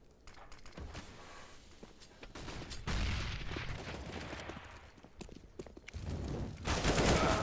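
Gunfire from a professional Counter-Strike: Global Offensive match on the Inferno map, rapid automatic bursts and single shots crackling continuously, swelling into heavier volleys near the middle and end, with no talk over it.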